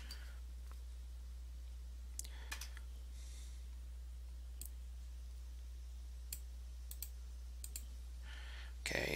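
Password typed on a computer keyboard: a few sparse, faint key clicks scattered over a steady low electrical hum, close but quiet, ending with a slightly busier cluster of taps.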